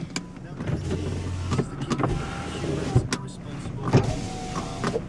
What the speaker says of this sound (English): Electric windows, let's make sure they're all working.